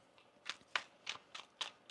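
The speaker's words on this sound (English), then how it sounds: "One more shuffle" Tarot cards being shuffled by hand in a quiet room, six crisp riffling snaps spaced about a quarter second apart, close and fairly soft.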